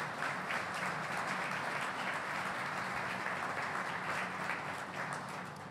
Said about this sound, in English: really deserve a round of applause for that.